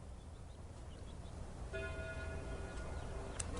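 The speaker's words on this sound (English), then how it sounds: "At that moment, the church bells began to ring." Church bells ringing far off, soft sustained tones that enter partway through and hang over a low windy rumble, faint and distant.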